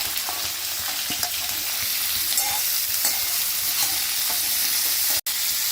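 Carrots, beans and onion frying in a pan for a Bengali-style bhoger khichuri, a steady bright sizzle running throughout with a few soft stirring scrapes, close and alone with no talk.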